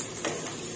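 Eggs and Chinese cabbage stir-fried in a pan, giving a steady close sizzle with a brief louder stirring scrape, heard alone with no talk.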